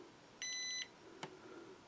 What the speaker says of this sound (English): if it gives me 2 little beeps, that means it's unlocked.